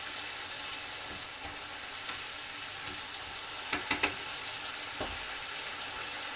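Green bell pepper stir-frying in a pan with mirin, rice vinegar and sake, a quiet continuous sizzle with a few soft clinks of a utensil partway through.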